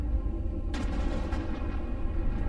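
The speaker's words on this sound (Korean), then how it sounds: "잠들어 있던 베수비오 화산이 폭발했습니다" Mount Vesuvius erupting, rendered as a dull continuous rumble with a sudden sharp blast partway through, followed by further crackling bursts over the deep roar, with no voices.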